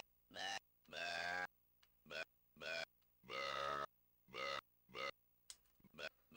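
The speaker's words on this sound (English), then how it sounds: "Burps." A string of burp sound effects from the game Alundra, some long and gurgling and others short, play one after another with gaps of silence between them, loud and close.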